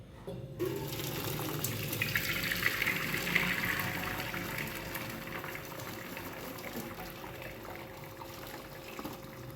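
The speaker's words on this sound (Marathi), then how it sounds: "आता आपल्याला हे सगळं पाणी चाळणीत ओतून काढायचं आहे" Potato cooking water pours into a strainer after boiling, a soft continuous splashing and hiss at low level, close by and unbroken for the whole stretch.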